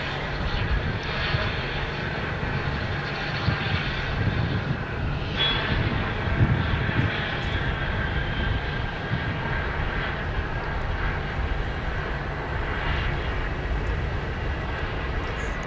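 Airliner jet engines at Phoenix Sky Harbor airport, a steady broadband roar that holds at a constant, fairly loud level throughout with no talk over it.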